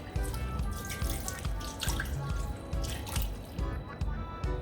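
Water pours steadily into an Instant Pot over chopped potatoes sitting on a tripod, a continuous splashing fill with a faint rhythmic knocking underneath.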